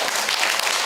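Audience at a science lecture claps for a student, a very brief burst of dense applause under a second long.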